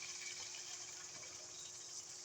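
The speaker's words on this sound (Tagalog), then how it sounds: "Lagyan natin siya ng konting tubig." Water running steadily into a cooking pot, a quiet continuous gush and trickle with no talking.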